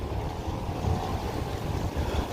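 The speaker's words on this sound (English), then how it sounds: "Oh, it is so windy tonight." Strong night wind rushes and rumbles against the microphone, a dense low roar with gentle surges and no voices, steady and fairly close throughout.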